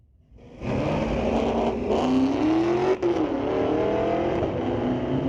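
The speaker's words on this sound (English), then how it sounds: "Definitely a nice sounding Dodge." Dodge drag car in the Mopac Performance Outlaw class launching at Mission Raceway Park, engine roaring to life and pulling hard with rising pitch, loud and sustained, with a brief dip as it shifts.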